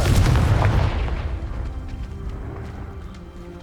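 A Confringo fire spell explodes in Hogwarts Legacy, a loud booming blast up front that rolls off into a fading rumble with faint crackling debris.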